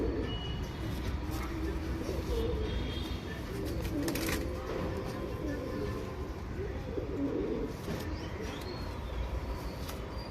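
Male patang pigeon cooing softly in a loft among other birds, low repeated coos under steady background noise and scattered distant sounds.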